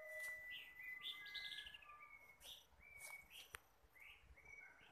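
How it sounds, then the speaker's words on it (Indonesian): Several small birds chirp and call in a garden with jackfruit and other trees, bright tweets and short whistled notes scattered across the scene, fairly faint and at some distance, with no talking. "Mau ada suara burung."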